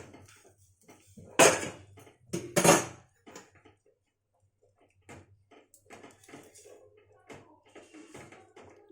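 A cooking pot lid is lifted off a pot of boiling raw mango, giving two loud metallic clanks of lid against pot, followed by quieter clinks and kitchen handling.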